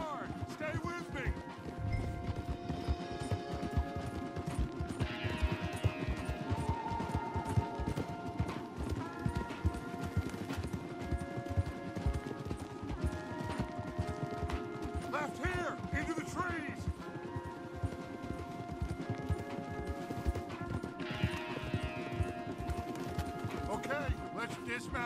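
Horses galloping in Red Dead Redemption 2, a steady rapid clip-clop of hooves on a trail beneath a constant music bed, with occasional whinnies and voices of riders.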